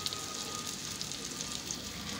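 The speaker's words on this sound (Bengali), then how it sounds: "কুচে মাছের জন্য কড়াইতে আলু, পেঁয়াজ, টমেটো, ক্যাপসিকাম, আদা রসুন বাটা সব দিয়ে কষাচ্ছি" Potato, onion, tomato, capsicum and ginger-garlic paste fry in a wok with a faint, steady crackling sizzle throughout.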